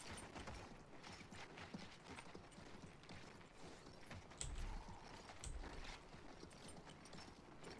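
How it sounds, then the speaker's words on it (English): Horse hooves clop at a riding pace in the World War I shooter Battlefield 1, a faint, quick rhythmic patter mixed with mechanical tack rattle and creaks. "I hate riding on horses."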